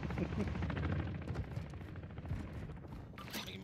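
Rattling gunfire from AI bots fills a Call of Duty DMZ match, with dense rapid shots close by over a rumbling backdrop and a sharper crack near the end.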